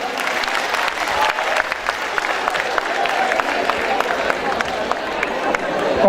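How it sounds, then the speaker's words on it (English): An audience applauding at an award ceremony as a memento is presented to a professor, sustained crowd clapping with some cheering, a voice speaking over it at times. "Huge round of applause."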